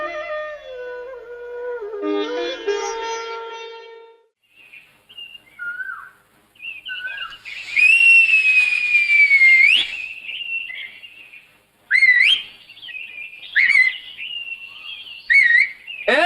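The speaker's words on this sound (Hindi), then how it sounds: "सीटी बजाती है।" A young woman whistles loudly like a boy, with a rising, sliding tone followed by several short, sharp whistle bursts, in a cold outdoor setting. An earlier stretch holds harmonic vocal or music-like tones.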